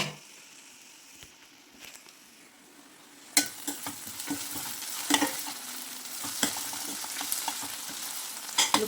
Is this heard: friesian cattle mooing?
no